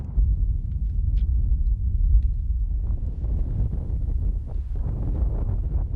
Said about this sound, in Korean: 기온은 뚝 떨어지고 바람소리 외에는 아무것도 들리지 않는 적막한 땅